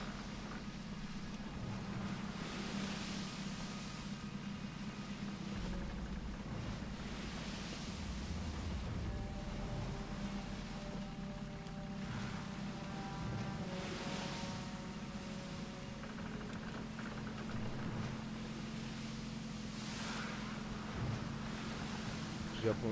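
Sea waves and wind in the war video game Battlefield Bad Company 2, a steady broad rushing wash with slow swells and a low droning hum underneath, continuous and fairly loud throughout.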